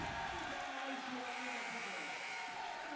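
A loud, steady roar from a basketball arena crowd at a men's college game between Coffeyville and ICC, with a commentator talking over the continuous din throughout.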